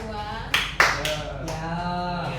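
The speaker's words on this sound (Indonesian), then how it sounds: "Boleh tepuk tangan." A few sharp claps in a classroom stand out as isolated bursts over a sustained tonal background with a voice, brief and uneven rather than a full round of applause.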